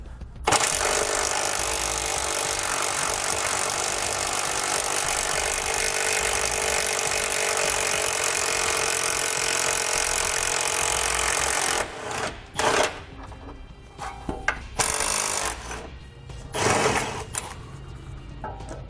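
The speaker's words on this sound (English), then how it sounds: "I'm going to grab an 18mm socket and I'm going to pull those bolts out" A power tool with an 18mm socket removes frame bolts under a 2017 Ford Explorer, giving a long loud continuous whir followed by short bursts, clanks and clatter of the bolts coming free.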